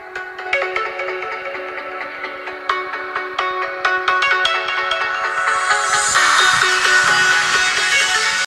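An iPhone XS Max ringtone plays from the top earpiece speaker, a bright melodic chime that rings continuously and swells louder toward the end, close and alone.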